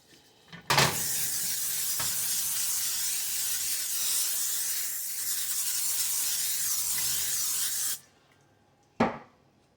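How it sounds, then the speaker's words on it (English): A steady, loud hiss of olive oil cooking spray onto a pan runs for several seconds without pause, ending abruptly, followed by a brief clack. "Spray the pan down."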